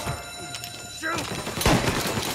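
Shootout gunfire in the Mafia video game during a robbery standoff, with scattered shots mixed with shouting voices and a sharp louder burst near the end of the brief stretch.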